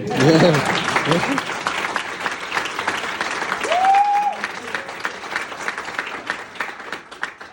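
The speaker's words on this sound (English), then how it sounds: "A round of applause for that." An audience at an air traffic controller graduation ceremony breaks into loud, sustained applause, the clapping dense at first and gradually thinning, with a brief whistle or cheer partway through and voices mingled in.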